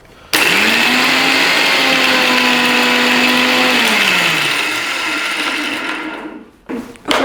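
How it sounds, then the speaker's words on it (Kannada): A kitchen mixer grinder coarsely grinding spices for a spicy red chilli chicken, a loud steady motor whine with rattling blades running several seconds, slowing near the end, then a brief restart. "ಇದನ್ನು ನಾವು ಸ್ವಲ್ಪ ತರ್ತರಿಯಾಗಿ ರುಬ್ಕೊಳ್ಳೋಣ."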